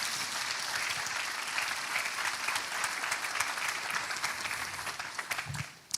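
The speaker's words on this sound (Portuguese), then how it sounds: "Vamos dar uma salva de palmas para esse casal." Church congregation applauding a couple, a steady wash of dense clapping from a large crowd that carries on throughout and fades out at the very end.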